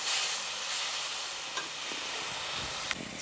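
Half a kilo of chicken tossed into masala over a slow flame for a pressure-cooker-free chicken biryani, giving a steady sizzling hiss with a couple of soft stirring knocks, close and with no talking.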